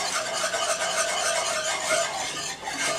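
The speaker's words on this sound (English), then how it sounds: "Start whisking and gradually add the heavy cream." A whisk scrapes steadily around a pan of hot caramel as heavy cream is poured in, a continuous close raspy rubbing with faint bubbling sizzle and no voices.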